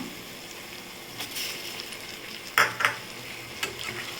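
Tomato and onion sautéing in a pan for fish podimas, stirred with a utensil: a soft steady sizzle with a few brief scraping clinks, close and fairly quiet, no talk.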